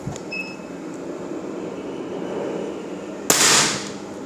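A Snowpeak P35 air pistol fires a single sharp shot near the end, one loud bright crack rising out of a quiet room hum and leaving a brief tail.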